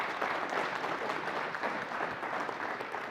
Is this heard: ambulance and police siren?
no